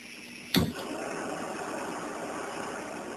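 A Jetboil camping stove fires up with one sharp piezo igniter click, then the gas burner catches at once and settles into a steady, fairly quiet hissing roar.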